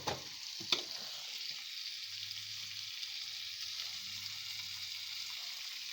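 Porchetta-style pork loin, already spiced, fries in butter in a pan with a steady, soft sizzle throughout, two brief knocks near the start as the meat is flipped, and a low hum underneath.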